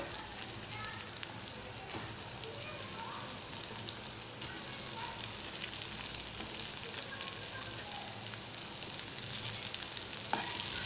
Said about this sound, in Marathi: आता व्यवस्थित परतून घेणार आहे मी आणि आता उकडलेला बटाटा घालणार आहे।